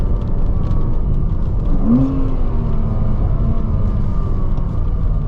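A Porsche engine drones steadily and loud throughout in second gear, with a brief rising rev partway through over constant road rumble.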